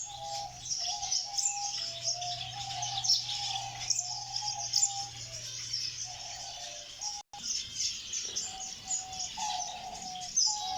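Many birds chirp and call across an Iraqi bird reserve, with repeated tweeting phrases over a constant insect-like buzz and a low steady hum, all moderately distant and free of speech.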